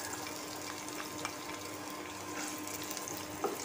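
Finely chopped onion drops into hot oil with fried cumin and sizzles in a steady, soft, faint hiss, with no talking.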